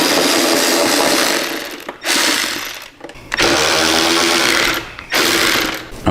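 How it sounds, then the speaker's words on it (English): A ratchet with an extension turns rapidly while a headlight bolt is removed, giving sustained buzzing clicks in three long bursts separated by brief pauses, close and loud with no talking. "it helps if you got an extension to put on there, because you just kind of sneak it through the wires and then pull out the bolt"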